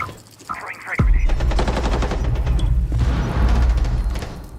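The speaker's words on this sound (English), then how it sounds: "Throwing frag grenade." A frag grenade explodes in Rainbow Six Siege with a sudden loud boom about a second in, followed by sustained heavy rumbling and rapid gunfire-like crackle through the rest.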